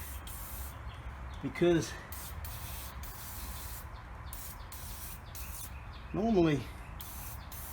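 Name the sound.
spraying penetrating oil on truck spring shackles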